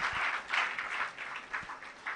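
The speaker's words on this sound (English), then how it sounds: "please, a round of applause for him." Audience applause at the Shine Summit, a youth empowerment event in Ghana: a modest, moderately distant patter of clapping that swells and ebbs over a couple of seconds.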